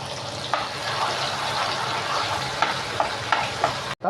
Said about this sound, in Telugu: కొద్దిగా మసాలా వేయించేసి